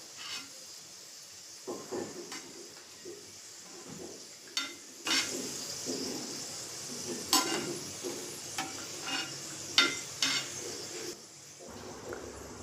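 Raisins fry in hot oil for motichur laddu, a steady soft sizzle and hiss under intermittent scraping and clinks of a metal spoon stirring in the pan, close by.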